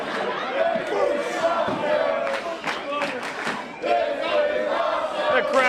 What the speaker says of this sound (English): The crowd voicing their approval here at Turner Rec Center.